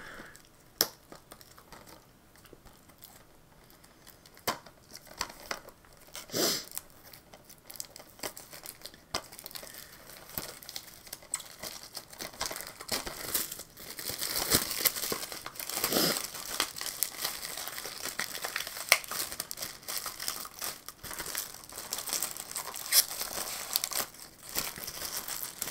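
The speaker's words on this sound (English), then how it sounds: "I'm going to go ahead and try to take this plastic off" Plastic shrink wrap being torn and peeled off a Camp Blood DVD collection case, a long run of close crinkling, crackling and sharp tearing bursts with short pauses.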